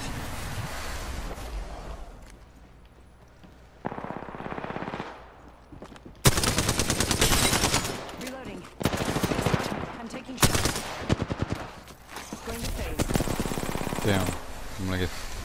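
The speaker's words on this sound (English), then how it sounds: "Shots fired and they're hitting me" Gunfire in the battle royale game Apex Legends: bursts of automatic shots and single cracks, loud and dense in stretches, with game ambience and a voice talking underneath.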